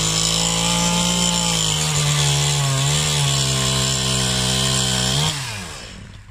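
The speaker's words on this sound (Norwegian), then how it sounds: "Oi, skal vi motorsag her også?" A chainsaw cuts down a Christmas tree, its engine roaring loud and close at a steady high pitch, wavering as it bites into the wood, then winding down near the end.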